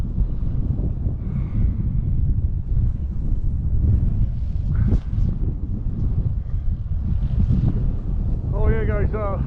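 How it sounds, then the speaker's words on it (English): Heavy wind buffeting a microphone outdoors while heading into the wind, a constant low rumbling roar throughout, with a voice talking intermittently over it. "Right into the wind."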